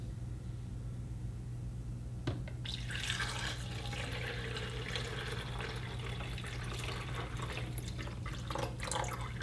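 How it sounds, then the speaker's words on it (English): Quiet steady hum, then a click followed by continuous trickling and hissing water as a Hamilton Beach 2-Way FlexBrew drip coffee maker brews four cups through a paper filter into a carafe, no voices. "Next, I'll brew 4 cups of coffee using the carafe."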